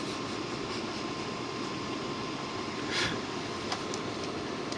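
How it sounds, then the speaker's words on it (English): A Dell Optiplex 745 computer's fan idles at high speed, a steady airy whir with a faint tonal hum, continuous and even, close to the microphone and without any speech. "the fan's now idling at 2973 RPM"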